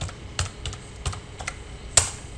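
Someone types on a computer keyboard while entering data into an Excel spreadsheet: a close, steady run of sharp, irregular keystrokes with brief pauses and one harder tap near the end, no voices.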